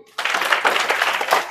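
A short burst of crowd applause from a studio audience on a quiz game show, starting abruptly and staying dense and fairly loud for just over a second.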